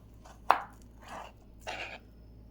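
A knife cutting a banana into thick finger-shaped pieces on a board, three close, crisp cuts spaced roughly half a second apart, the first one sharpest, with no voices.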